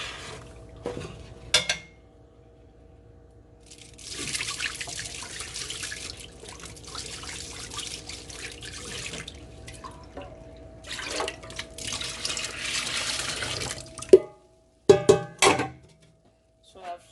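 Pap is sieved out of pots into a bowl in a kitchen, with sustained wet scraping and sloshing, dripping, and several sharp metallic clanks of pot and utensils near the end, close up with occasional talking.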